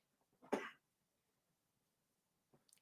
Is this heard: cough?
yes